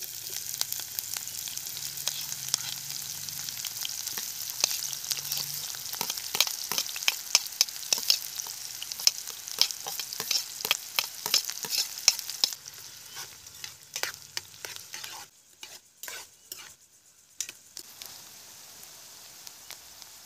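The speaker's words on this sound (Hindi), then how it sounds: "सुन पा रहे हो? ऊपर से नमक मिर्च डाल दिया है, तो भाई क्या ही कहना, गर्म हो चुका है तेल ऑलरेडी।" Food frying in hot oil seasoned with salt and chilli at an outdoor night campsite in wind, a close crackling sizzle full of sharp pops that thins out and turns sparser toward the end.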